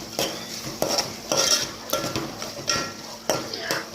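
Ginger garlic paste stirred in a pan, with repeated scraping strokes of a spoon against the metal over a light sizzle, close up and rhythmic, about six strokes in a few seconds.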